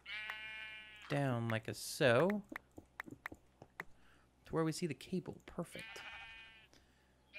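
Sheep bleating in a modded Minecraft game: several loud, wavering bleats near the start, then another later, with someone talking between them over a quiet game background.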